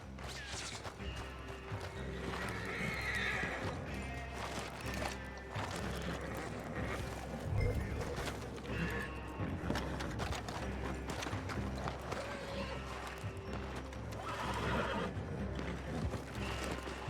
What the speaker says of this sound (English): We can take the horses from that coach!